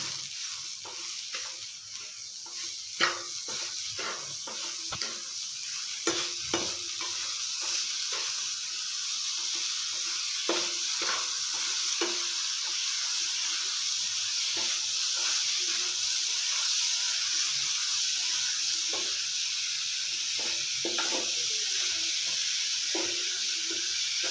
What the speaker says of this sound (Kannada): ಇವಾಗ ಸಕ್ಕರೆ ಹಾಕ್ಕೊಳ್ಳೋಣ ಚೆನ್ನಾಗಿ ಮಿಕ್ಸ್ ಮಾಡ್ಕೊಳ್ಳೋಣ